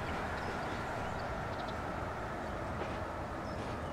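Steady low rumble of a train running in the railway simulation game Transport Fever 2, a continuous droning roll with faint clip-clop-like wheel clatter, moderately loud and unbroken throughout.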